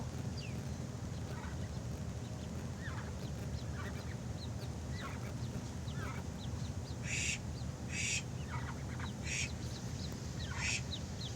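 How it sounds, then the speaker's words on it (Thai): Foreign-breed ducklings quack and peep in short, scattered calls over a steady low rumble of background noise, with several brighter chirps bunched near the end. "เป็นเป็ดสายพันธุ์ต่างประเทศนะคะ"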